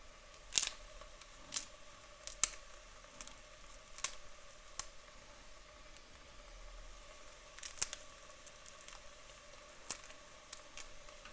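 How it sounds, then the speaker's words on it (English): Dried wakame seaweed snapped into little bits by hand, giving sparse crisp cracks and crackles scattered irregularly over a quiet room, close and fairly soft. "I'm going to get the wakame, I'm going to break it up into little bits"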